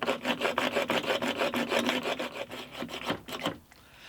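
Wood rasping under a chisel pushed forward through a slot, a steady run of rapid scraping strokes, close and fairly loud, that breaks into a few separate scrapes and then stops.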